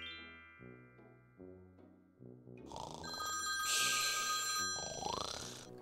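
A telephone rings with a bright, sustained electronic trill that rises loudly over soft music and lingers near the end.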